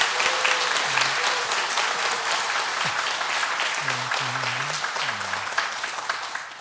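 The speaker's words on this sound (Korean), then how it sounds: "오늘 새로 오신 분들 위해서 박수 한번 쳐드릴까요?" A Catholic congregation applauds newcomers during a Sunday Mass in a parish church, steady sustained clapping from many hands filling the room, with a few faint voices and low murmurs underneath.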